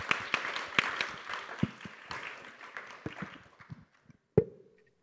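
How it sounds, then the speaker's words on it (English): A smaller conference audience at an energy summit claps for the keynote speaker, scattered distinct hand claps that thin out and fade after a few seconds, ending with one last sharp clap. "can we have an applause, please, to Mr. Manish"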